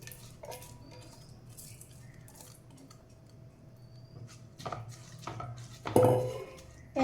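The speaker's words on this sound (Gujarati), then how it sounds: "હવે ઘીમાં આ જે ચોખા પલાળીને રાખ્યા હતા ને એ અંદર એડ કરી દઈશું." Soaked rice tips into a kadai holding a spoonful of hot ghee, giving a short burst of clattering, pan-scraping noise near the end after a stretch of quiet kitchen clinks.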